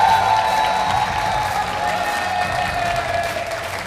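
Loud, steady applause from a studio audience on a TV debate show, continuous clapping with some cheering that holds at an even level throughout.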